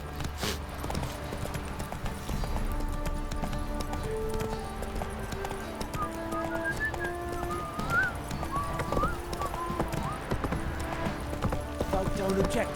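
Hooves of Roach, Geralt's horse in The Witcher 3, clop steadily at a gallop, with a neigh and background music. Speech is heard over the hoofbeats.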